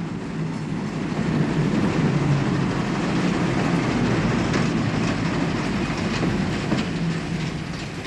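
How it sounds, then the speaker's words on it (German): Passenger train pulling into a small-town station, a steady rumbling roll with faint rhythmic wheel clatter throughout, fairly close and continuous. "Das ist Ihr Zug."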